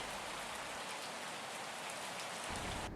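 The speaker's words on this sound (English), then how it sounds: "it's wet and rainy and windy too." Steady, dense rain pours down with wind throughout, a continuous close hiss of drops on surfaces with low gusty rumble beneath, brightening slightly near the end.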